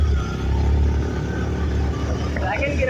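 Car engine labouring in second gear up a hairpin bend on the Dhimbam hills road, a steady low rumble that rises toward the end, with people talking over it inside the car.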